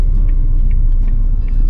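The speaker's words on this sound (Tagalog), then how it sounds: "Traffic sa expressway." Steady, continuous road traffic on an expressway, a dense low rumble of car engines and tires with faint passing whooshes, close and unbroken throughout.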